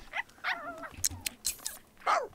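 Dog in The Sims 3 Pets video game making short whines, yelps and chewing sounds in quick irregular bursts, fairly quiet.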